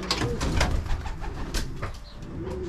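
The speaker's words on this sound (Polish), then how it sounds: "Jest drugi gołąbek z 500-ki." A racing pigeon arrives at its loft: pigeons coo and flutter nearby amid rustling and soft knocks, with scattered bursts of wing flapping and low background noise.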